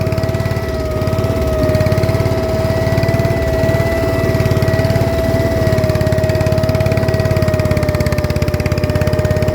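A Xingtai 120 mini tractor engine chugs steadily and loudly throughout as it drives through mud, with a constant droning tone and rhythmic pulsing as it labors along.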